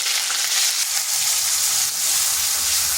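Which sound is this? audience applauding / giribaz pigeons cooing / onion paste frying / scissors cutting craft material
onion paste frying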